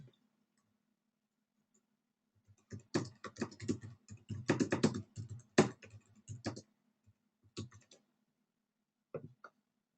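Computer keyboard typing during an online class session, a run of quick, uneven key clicks that starts after a few seconds of silence, with scattered taps near the end and no talking.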